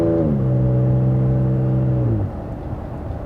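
A Toyota Tacoma fitted with a Carven exhaust accelerates lightly from low revs, its engine note rising steadily and loudly for about two seconds before easing back to a quieter rumble, with no talking.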